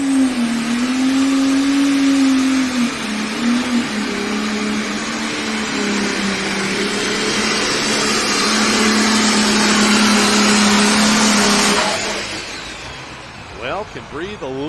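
The Loud and Heavy X pulling tractor roars at the 2025 Grand National truck and tractor pulling event in Canton, Ohio, with a loud, sustained engine howl for about twelve seconds before it drops away, while an announcer talks over it.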